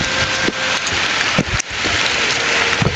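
Rain pouring steadily outdoors among trees, a dense close hiss of drops striking surfaces with a few sharper taps and thumps, no voices.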